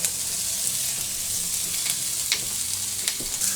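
Habanero and poblano chilies with chopped sweet onion sizzle steadily in a hot pan, a dense continuous frying hiss with occasional brief stir clicks and pops, heard alone and fairly close.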